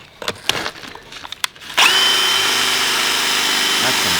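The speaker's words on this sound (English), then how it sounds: "So we're trying to drill a hole and bolt it in." A power drill bores into hard steel track tread on a track loader, starting after a short stretch of clicks and knocks and then grinding on as one loud, steady, strained whine close by.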